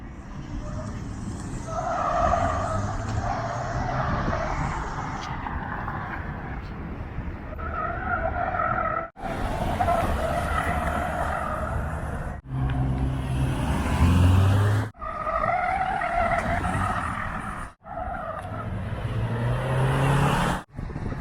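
A Mitsubishi Outlander PHEV accelerates hard on a test course, then brakes and slows. Loud, sustained driving and tire noise runs throughout, broken by several abrupt cuts and brief squealing bursts.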